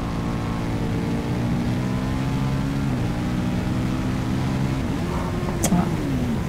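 A KTM 1190 RC8 R motorcycle on a race circuit holds a steady, loud engine drone with rising harmonic lines as it accelerates, then a gear change near the end briefly breaks the tone before it settles lower.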